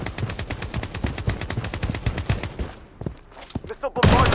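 Rapid bursts of automatic gunfire crackle nonstop in the video game BloodStrike, loud and close, then a brief lull with scattered shots before another sharp blast.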